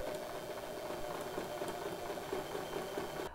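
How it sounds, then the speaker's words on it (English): A sewing machine stitches fabric in a steady, fast mechanical whir with a light rattle, running continuously at moderate volume with no talking. "try your best to sew in a straight line"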